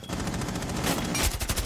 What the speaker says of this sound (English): He's getting shot from above